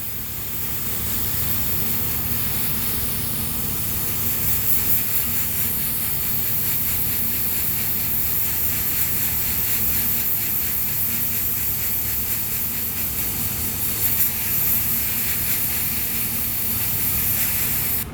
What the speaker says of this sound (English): now that we've got this in the airbrush, let's go ahead and test it out